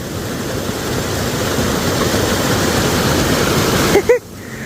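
A rushing rainwater stream in a mountain village in Uttarakhand pours with a loud, constant broadband roar that fills the whole clip, with a couple of faint high whistles near the end.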